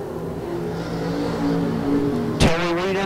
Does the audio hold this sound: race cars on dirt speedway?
yes